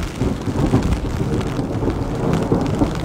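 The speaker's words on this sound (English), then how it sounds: "listen to the rain against the umbrella" Heavy rain drums steadily against an umbrella, a dense, loud, continuous patter with a deep rumbling undertone and no voices.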